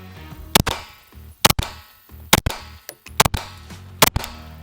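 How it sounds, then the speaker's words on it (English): Shots from a Fusion XP Pro 2011 pistol with a ported Glock-magazine setup ring out as about five loud, sharp cracks, mostly in quick pairs, each followed by a short ringing decay with no talking. "We're going to pop some rounds off with the XP Pro, even though we've been shooting it all day."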